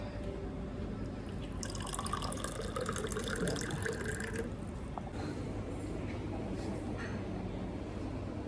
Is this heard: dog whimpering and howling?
no